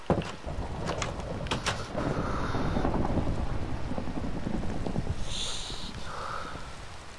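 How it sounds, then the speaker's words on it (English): Heavy rain pours down steadily amid a thunderstorm, with a low rumble of thunder and gusty wind buffeting the microphone, and faint scattered higher sounds near the end. "When will this rain stop, though?"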